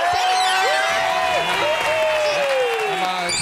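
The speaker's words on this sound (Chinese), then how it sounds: "掌声鼓励。" Studio audience applause on a Taiwanese variety quiz show, a dense, steady wash of clapping and crowd noise lasting about three seconds, with bright tonal lines running through it.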